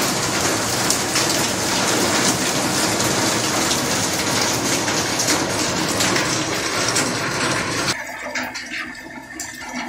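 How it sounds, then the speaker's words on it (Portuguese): Heavy rain pours down steadily during a 2021 flood near a waterfall, a loud dense roar of water that drops off sharply near the end to a lighter patter. "E aqui já tá chovendo muito ainda"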